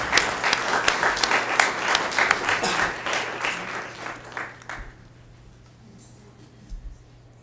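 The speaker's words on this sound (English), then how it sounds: "How about another round of applause on this question?" An audience at a Yucca Valley Chamber forum applauds, a dense round of clapping lasting several seconds before thinning out into a quiet room with a low hum.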